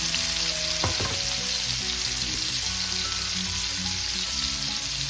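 Onions and tomatoes sautéing in a pan for sautéed cabbage, a dense, steady sizzle close by, with a few clinks and scrapes of a utensil early on.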